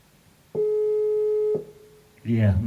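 A single telephone ring tone, one long steady electronic burst of about a second over a call line, followed by silence and then a voice beginning to speak.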